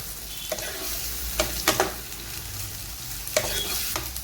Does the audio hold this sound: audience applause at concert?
no